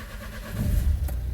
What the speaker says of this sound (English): So cranking the engine.